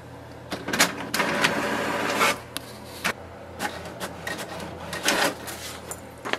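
An HP Deskjet 2621 printer feeds and prints a page, giving irregular bursts of mechanical rasping and clicking with short pauses between passes, close and fairly loud.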